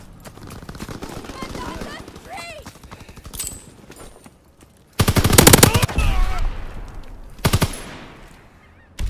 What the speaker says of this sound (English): Pilot inbound, strafing the target.